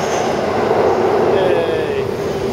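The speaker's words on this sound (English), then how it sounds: "we're just at the train station" A train at a station in Japan, a steady loud rumble of rolling carriages with a faint brake squeal, continuous and close throughout.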